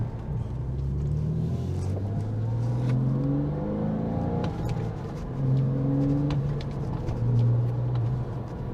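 Porsche sports car engine revving high through its rev range with a throaty tone, rising and falling in pitch across several loud, close pulls with no talk.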